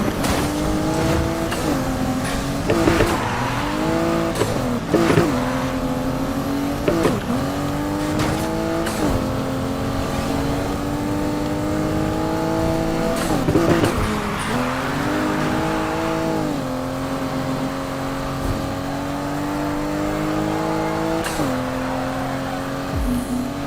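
Virtual car in Need for Speed Shift revving hard and drifting, with a steady loud engine drone whose pitch climbs and drops repeatedly, broken by sharp gear-shift jumps and tire noise throughout.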